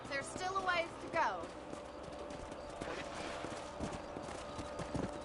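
Horse hooves clip-clop steadily beneath a rider in the Red Dead Redemption video game, close and continuous, with a brief whinny and a voice speaking near the start.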